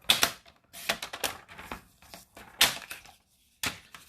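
Scissors cut through a paper flap for a handmade stamped mini book. Close, crisp snips and crunches come in short irregular bursts separated by brief quiet gaps.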